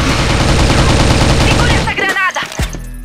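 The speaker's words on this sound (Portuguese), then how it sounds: "O Nasso dando tiro de MDC" Rapid automatic gunfire from an MDC-style weapon in the shooter game CrossFire, dense and loud for about two seconds before breaking into scattered single shots and clicks.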